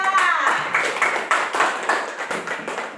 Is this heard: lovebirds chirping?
no